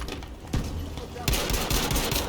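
Gunfire from a first-person shooter set in World War II, with a burst of automatic fire crackling under a low background roar that grows louder and denser midway through.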